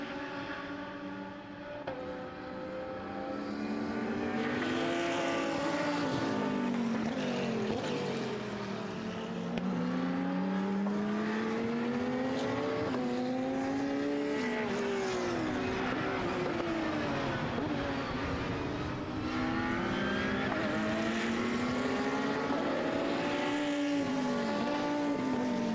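Endurance race cars, led by a KTM, roar past at a circuit in Most during an FIA CEZ endurance race: loud, continuous engine whine rising and falling as several cars pass and shift gears, with no speech.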